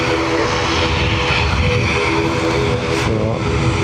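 An ATR turboprop airliner departs Dublin Airport, a loud steady propeller drone with strong low tonal hum, close and continuous, swelling slightly near the end.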